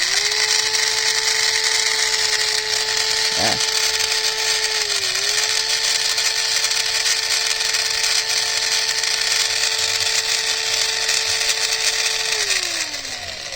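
Vintage Skil cordless drill restored with two new 18650 batteries at 8 volts, spinning with a steady close motor whine and hum, pitch holding level with a brief dip midway and tapering as it winds down at the end.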